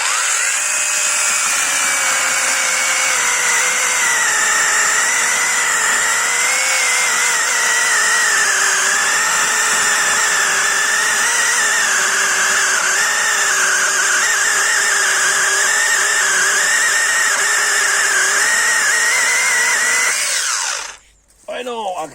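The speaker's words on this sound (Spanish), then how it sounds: "Ya veis qué pedazo de tronco que estamos cortando con una máquina súper pequeñita y muy manejable" A small, handy Hychika battery chainsaw with a 4 Ah battery bites into a thick, damp log, its high, loud whine wavering steadily for about twenty seconds before cutting out abruptly near the end.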